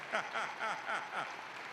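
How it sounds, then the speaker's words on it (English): Commencement audience applauding at a fall university graduation ceremony, a soft, distant, steady patter of many hands with rhythmic swells. "Give my students a round of applause for grit, for grit."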